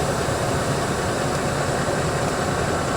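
A semi tractor in first gear during a CDL tug test gives a steady, close engine rumble with broad mechanical noise and no change in pace or talk.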